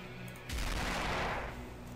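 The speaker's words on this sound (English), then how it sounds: "And small explosion." A small explosion effect from the Terror Engine game editor: a sudden broadband boom about half a second in, sustained rumble and crackle for roughly a second, then fading into a steady low hum.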